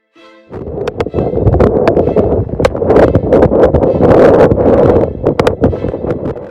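Typhoon winds over a Philippine coastal settlement roar loudly and continuously, buffeting and gusting with sharp rattling bursts throughout.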